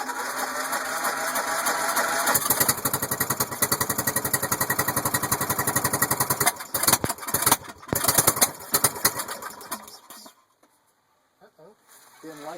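Old engine on a Mudd Murray, jumped directly off the starter because of a weak solenoid, cranking and catching with a rapid, uneven mechanical chatter, then sputtering and cutting out to near silence before a few brief knocks.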